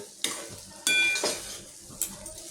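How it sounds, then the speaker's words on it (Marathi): Semolina sheera with sugar and cardamom is stirred in a pan, three distinct scraping, clattering strokes of a spoon over a light sizzle, close and fairly loud. "आता याच्यात थोडं मिक्स करून घेते"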